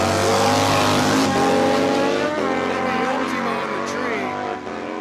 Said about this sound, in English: This ought to be a great drag race coming at you.